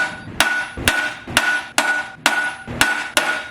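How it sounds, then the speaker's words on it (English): A heavy hammer strikes the crank bolt of a mini bike in seven hard, evenly spaced metallic whacks, each close and loud with a short ringing tail. "You gotta whack it right here with a heavy hammer."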